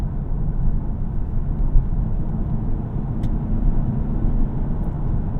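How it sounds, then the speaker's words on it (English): Steady, loud low rumble of tire and road noise fills the cabin of a 2025 Toyota Camry XSE AWD with a 2.5-liter engine while driving, a constant droning hum with no talking over it. "Road noise isn't too awful. It is a little bit on the louder side in here"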